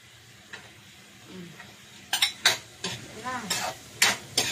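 Chicken and bell pepper are sautéed in a pan over low heat, giving a soft sizzle under repeated scraping and clacking strokes of a spatula against the pan, close and fairly loud.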